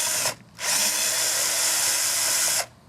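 A cordless power drill whirs close up while removing plastic covers on a Scott's lawn mower with a Briggs & Stratton Intek engine, in two bursts: a short one, then a steady two-second run.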